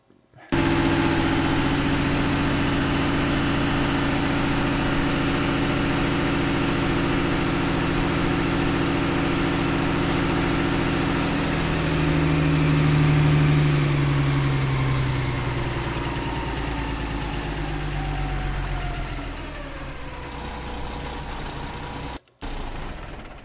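A Solaris bus engine idles with a steady low exhaust rumble in a bus simulator game. It holds loud and constant, with a brief drop in pitch midway, then cuts off near the end.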